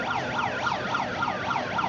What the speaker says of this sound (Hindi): देखो सूर्यास्त होते के साथ ही इनका सायरन बज गया